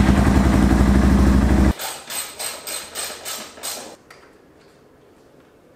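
A Yamaha XT225 motorcycle engine, recently repaired, fires up and settles into a pulsing, uneven idle close by, with a loud rumble before it and a quieter tail afterward.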